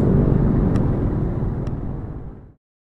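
A Sniper 150 v2 motorcycle fitted with a HUN aftermarket exhaust pipe by Racing Monkey gives a loud, close, steady rumbling drone that holds for about two and a half seconds and then cuts off abruptly.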